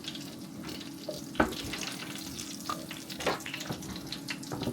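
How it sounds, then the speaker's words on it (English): Oil sizzles and crackles in a pan nearby, with a few sharp pops and clinks over a steady frying hiss. "you can hear that oil sizzling straight away"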